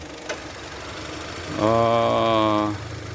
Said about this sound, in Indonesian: Ini suara mesinnya juga nggak berubah